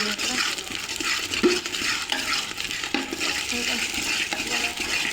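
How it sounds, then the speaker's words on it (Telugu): Ginger frying in oil in a pan, giving a close, steady sizzle mixed with scraping stirring and clinks of a utensil against the pan, with no talk. "ఇప్పుడైతే అల్లం వేస్తున్నాం"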